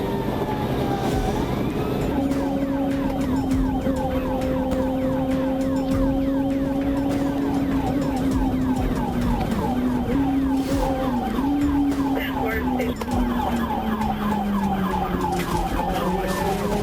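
Police sirens wail continuously through a high-speed freeway chase after a sport bike, the tone sweeping and shifting over steady road and engine noise.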